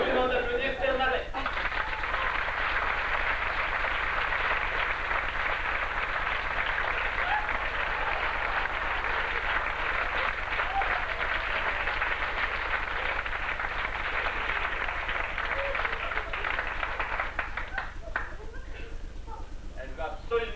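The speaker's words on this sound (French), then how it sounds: "Je vous demande d'applaudir Bernadette" An audience applauds in a hall at a televised French variety show, steady dense clapping sustained for about twenty seconds before tapering off near the end.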